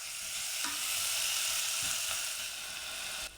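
Roasted pumpkin tumbles into a pan of hot spices with turmeric and grated ginger, then a steady loud sizzle carries on alongside scraping stirring strokes, close up and with no one talking.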